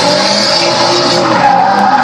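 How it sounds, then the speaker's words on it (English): Loud continuous tire squeal from a car drifting around a tight circuit at Archerfield Motorplex, a steady sustained screech with engine roar underneath. "Drifting at his best on this tight little circuit out here at Archerfield Motorplex"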